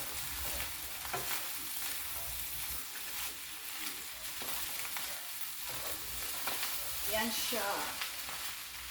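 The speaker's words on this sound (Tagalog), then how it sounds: "Halo lang ng halo, mix lang ng mix." Pork fried rice with mushrooms being stirred in a hot pan: continuous scraping and tossing over a steady sizzle, near and fairly quiet, with a brief spoken remark.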